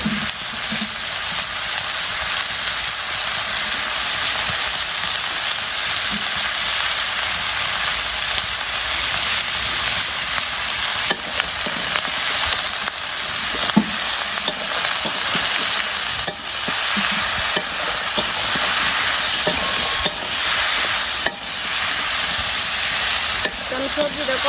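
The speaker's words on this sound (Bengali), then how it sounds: "আমি সবজিটা কষাইতে থাকি, কষানো হয়ে গেলে জল দিয়ে দিলাম।" Vegetables sautéing with turmeric and chili in a village kitchen pan: a steady, close sizzle with occasional stirring scrapes running the whole time, no talking.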